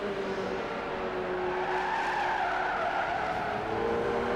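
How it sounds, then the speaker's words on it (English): A Ferrari F40 skids in oversteer in the Gran Turismo 5 racing game, its tires squealing in a loud, continuous howl with wavering pitch over the steady engine roar for the whole stretch. "Getting quite a bit of smoke. Getting also a bit of oversteer."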